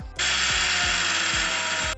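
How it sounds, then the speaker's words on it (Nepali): An electric mixer grinder pulverises roasted peanuts and sesame seeds in a loud, steady high-pitched whir that starts abruptly, runs for under two seconds and cuts off, with a faint rhythmic knocking underneath. "अब चाहिँ मैले यहाँ बदम र तिल हालेको छु मिक्सरमा मिक्स गरेर"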